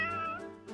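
A cat meows in the video game Fire Emblem Warriors: Three Hopes, one drawn-out tonal meow followed by a softer second call, clear and fairly quiet with no talking.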